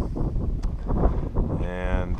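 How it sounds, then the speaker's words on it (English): Gusty wind buffets the microphone with a low, rumbling roar while a person talks over it, outdoors at the Mexican Hat rock formation in Utah. "it gets pretty damn windy out here"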